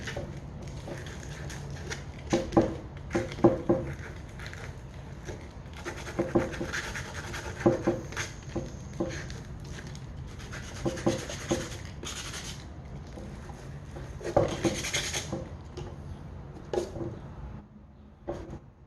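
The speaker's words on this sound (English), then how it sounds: "Just going to clean up the little burrs that are along the edge of these holes here." Burrs are scraped off the edges of drilled holes in a wooden board, producing short bursts of dry scratching and rubbing strokes in irregular clusters against a quiet background.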